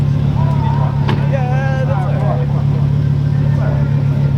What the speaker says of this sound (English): he just asked me if he got an exhaust. So that means it is louder than what it usually is.